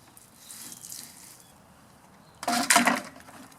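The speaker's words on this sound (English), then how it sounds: "try to get all this grime out of here. And I'm going to keep the water away from the motors and from the control panel up top." Water from a tap rinses grime off the plastic parts of a dismantled tower fan, a soft spray at first, then a louder splashing burst near the end, with no talk.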